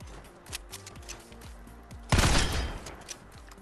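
Pistol fire from a video game, a run of quick repeated shots followed by a louder, sustained burst of gunfire with a ringing tail, no speech.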